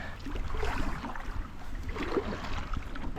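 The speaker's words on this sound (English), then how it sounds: "We're paddling." Kayak paddling on a hidden Michigan creek in the rain, with soft water churning and splashing from paddle strokes under a steady wet background wash, close and continuous with no talk.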